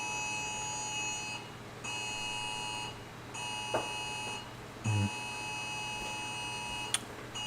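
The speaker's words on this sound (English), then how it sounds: "I got a warning on my phone. We got a flash flood warning in Southern California in this area." A phone flash flood warning for Southern California sounds as repeated bursts of loud electronic tones, each about a second long with short gaps, plus a few quick clicks in between.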